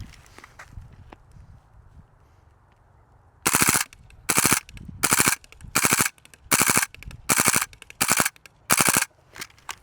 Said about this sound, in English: switch to full auto and see what changes. Alright, so let's reload and let's go full auto.